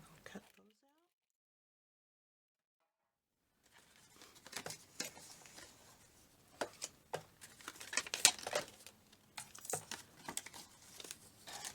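Paper snipped with scissors while cutting out tree and house shapes for a Still Scenes shaker card: a quiet opening, then irregular close crinkling and sharp cutting ticks that come in bursts.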